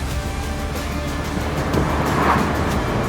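Porsche Boxster 986 with the 2.7-litre flat-six engine, a continuous rumbling drone from inside the car on a test drive, steady and fairly loud, a slight swell near the end, with no talking.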